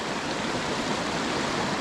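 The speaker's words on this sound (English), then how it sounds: "It's like a waterfall at the end of this kind of creek section." Waterfall at the end of a brook trout creek, a steady, dense rushing roar of falling water, close and constant, with no voices.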